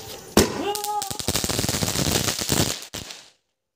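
Sky shot fireworks set off during Diwali celebrations, heard as a rapid, dense crackling burst of loud pops that fills most of the clip before cutting off, with a rising whistle early on and voices mixed in.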